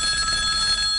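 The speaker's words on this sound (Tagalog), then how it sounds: "Tubaga itong telepono!" A telephone rings with a bright, steady electronic bell tone that sounds alone and close for about a second.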